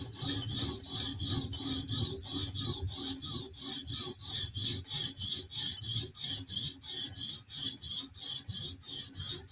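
A Chris Reeve Sebenza knife is sharpened on a TSProf guided sharpener, with work focused on the tip. Close, even rasping strokes repeat at about two per second with no pauses and no talking.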